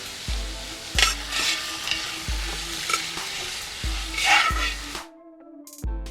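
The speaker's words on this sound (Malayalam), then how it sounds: "ആ എണ്ണയിൽ അതൊക്കെ ഒന്ന് വഴറ്റിയെടുക്കണം." Onions sautéing in oil in a century-old bronze uruli, with steady sizzling broken by repeated scraping stirs, loud and close, ending in a brief quiet stretch.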